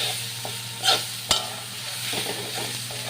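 Ground spices with turmeric and sugar being stirred and fried in a pan, with a steady low sizzle and two sharp utensil scrapes against the pan, no talking.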